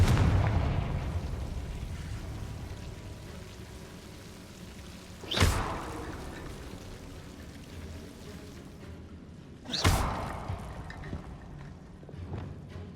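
Confringo blasting spell explosions in Hogwarts Legacy: two sharp, booming blasts several seconds apart, each with a rumbling tail fading into a quiet background.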